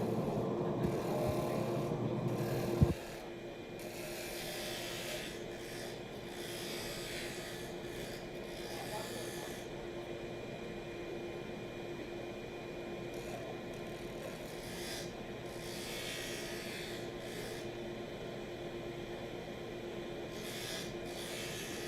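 Hand sanding of a briar pipe with sandpaper during a pipe-making contest: a steady, continuous rasping scrape that carries on without pause, with one sharp knock near the start.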